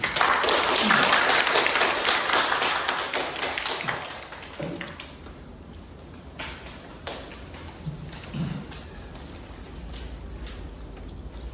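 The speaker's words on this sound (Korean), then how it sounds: "큰 박수로 와주시면" Applause at a monthly staff assembly of a municipal facilities management corporation, dense clapping from a gathered crowd that fades after a few seconds into scattered claps and room noise.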